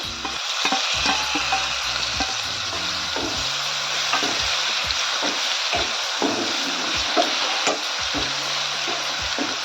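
Tomatoes and turmeric are stirred in a frying pan, a close, steady sizzle broken by repeated spoon knocks and scrapes against the pan at an irregular rhythm.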